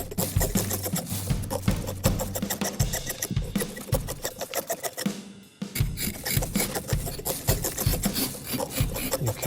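A carving tool scrapes and shapes a pumpkin in rapid, rhythmic rasping strokes, close and continuous, with one short pause partway through.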